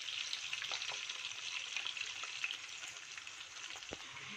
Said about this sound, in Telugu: ఇప్పుడు చికెన్ అంతా మొత్తం అలా నూనెలో బాగా ఫ్రై అవ్వాలండి